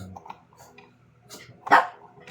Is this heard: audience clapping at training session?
no